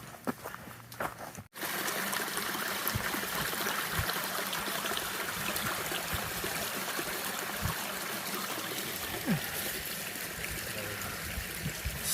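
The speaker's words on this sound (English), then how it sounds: "Stopped at this creek to take a break and filter some water." A creek flows steadily on a hiking trail, a continuous close rushing and trickling of water that starts abruptly after a brief quieter moment and holds at an even level.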